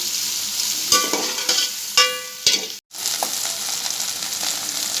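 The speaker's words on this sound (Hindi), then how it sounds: "ये भिंडी हमारी फ्राई हो गई है।" Okra frying in a pan, a bright continuous sizzle broken by a few sharp clinks and scrapes of a utensil, with a brief cut in the middle before the frying hiss resumes.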